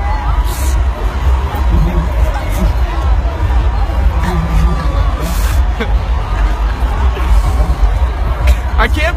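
A large outdoor crowd at a live Pride Toronto event, a steady close babble of many voices with scattered cheers and whoops, and a nearby person talking over it.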